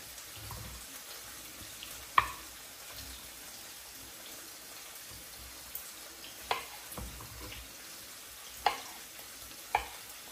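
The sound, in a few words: peppers frying in a pan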